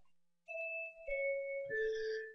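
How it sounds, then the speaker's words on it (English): A paging system sounds its pre-announce chime: a clean multi-tone electronic ding-dong sequence of three stepping notes, clear and alone before an announcement. "When I push the talk switch, you should hear the pre-announce chime go off"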